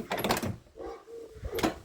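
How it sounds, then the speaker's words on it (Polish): A door of a Ford Taunus 1.3 opens with a short creak and latch sounds, bracketed by bursts of nearby talk. "Skocz mi tam teraz otworzyć tam te drzwi"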